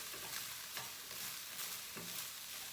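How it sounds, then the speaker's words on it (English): Broccoli stir-frying in a pan, a soft, even sizzle with a few faint stirring scrapes. "to this same pan, I'm going to add the broccoli, and we're going to stir fry it"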